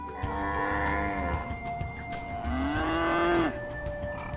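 Yaks on a high-altitude grassland road along China's Route 215 give deep, drawn-out moos, two long lowing calls close by, the second rising and bending in pitch over a low rumble.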